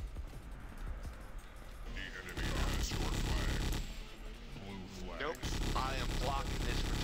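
Sniper rifle shots ring out in the video game Weapons Factory Arena during a 3v3 Streetball match, a few sharp blasts among game noise while players talk.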